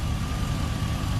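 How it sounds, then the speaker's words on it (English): A truck engine idles with a low, steady rumble as the air conditioning compressor engages, adding a faint constant hum, close and unbroken for just over a second. "Oh, there goes the compressor, baby."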